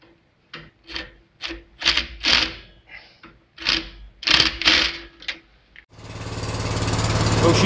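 A Stiga lawn tractor engine with a Kanzaki/Tuff Torq rear axle starts up after some irregular knocking and rubbing, then settles into a loud, steady running drone for the last couple of seconds.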